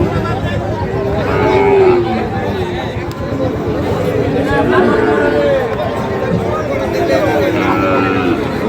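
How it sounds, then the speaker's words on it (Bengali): Sahiwal cattle moo at a busy livestock market, several drawn-out lowing calls rising over loud crowd chatter and bargaining voices throughout. "দেখছিলাম বেশ কিছু গরু এখানেও আছে"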